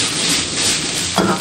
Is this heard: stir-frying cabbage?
yes